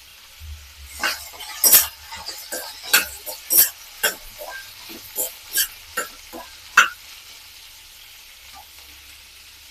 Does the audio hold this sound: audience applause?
no